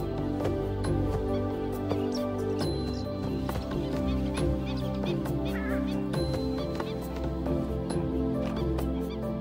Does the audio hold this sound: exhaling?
no